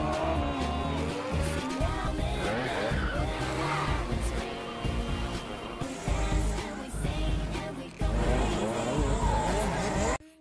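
Cars racing on a track in the film Big Brother, with a steady roaring engine drone, occasional tire squeals and skids, and a dense, loud mix throughout.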